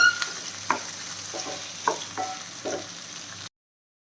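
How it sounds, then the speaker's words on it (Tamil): Tomatoes sauté in a pan with a soft, steady sizzle, while a spoon scrapes and stirs in a few short strokes. The sound cuts out suddenly near the end. "தக்காளி சேர்த்து நல்லா வதக்கிடலாம்"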